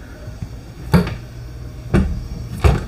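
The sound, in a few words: soft closing cabinet doors with magnetic latches in RV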